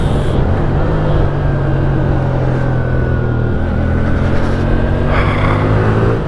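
Hyosung Aquila GV300S cruiser motorcycle riding along a road, a steady engine drone with a low droning hum and faint rising tone, constant and close throughout with no talking.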